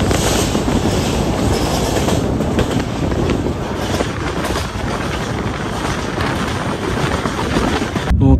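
A passenger train runs through Kashmir toward Banihal, past tunnels and bridges: a loud, steady roar of wheels on rails with rhythmic clickety-clack and a faint metallic squeal, heard from inside a carriage with no talk.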